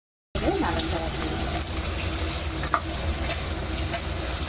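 Veg pulao is stirred in a pan, a steady sizzling frying hiss with soft scraping strokes that runs throughout at moderate level, with no talking.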